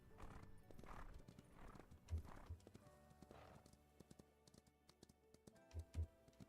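Horse in the Ranch of Rivershine video game, faint hoof clip-clops with a couple of sharp thuds and breathy whinnies, set over soft ambient game music and light clicking.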